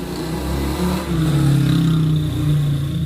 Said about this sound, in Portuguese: Sai logo essa moto, cara.